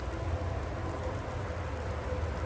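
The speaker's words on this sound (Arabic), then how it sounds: "هذا كيدل على ان الحال بارد بزاف منين الشتا كتحول للثلج" Steady rain falling in cold weather as it turns to snow, a continuous even hiss with a low rumbling undertone, constant and fairly faint with no talk.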